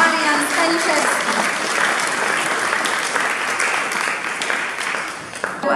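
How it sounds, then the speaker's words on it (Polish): Loud, sustained audience applause fills a Polish awards ceremony hall, steady and dense throughout with no break. "Jeszcze raz gromkie brawa, drodzy Państwo, Marian Staniszewski."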